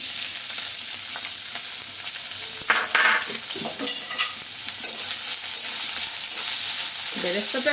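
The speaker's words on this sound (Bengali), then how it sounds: "কড়ায় সাদা তেল দেবো, দিয়ে পেঁয়াজটা একটু ভালো করে খালি ভাজতে হবে" Onion frying in white oil in a wok gives a steady, close sizzle, with scraping and stirring noises rising above it at intervals.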